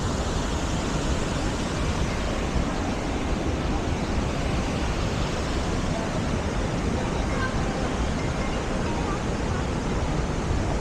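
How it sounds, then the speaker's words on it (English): Athirapalli waterfall in Kerala roars steadily and loudly, a dense, unbroken wash of falling water that fills the whole span with no pauses. "this is the waterfalls I was talking about. It's so noisy."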